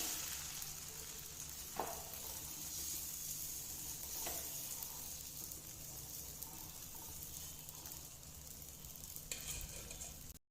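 Dosa batter sizzles steadily on a hot pan over a medium flame as it is spread in one direction, a continuous close frying hiss with a few soft scraping touches and no talking.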